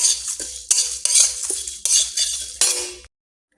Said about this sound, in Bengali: তো এগুলোকে আমরা এবার কড়াইয়ের মধ্যে দিয়ে দেবো। এগুলোকে খুব ভালো করে ভেজে নিতে হবে।